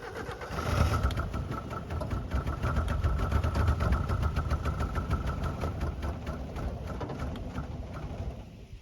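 An old Mitsubishi-made Dodge Ram 50 engine, sitting abandoned for over a decade and starved of fuel, runs roughly with steady rapid firing pulses and some sputter, close and fairly loud throughout with no talk.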